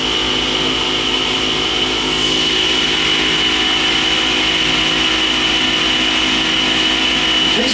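Motor of a vintage Dover hydraulic elevator running in an office center, a loud, steady whining drone with a high tonal hum that holds unbroken throughout, close by.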